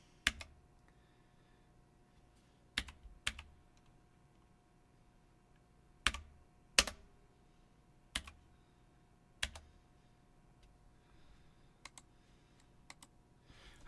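Sporadic keystrokes tapped on a computer keyboard, arriving as sharp isolated clicks and short pairs with long quiet gaps between them, close and fairly faint against a soft steady hum.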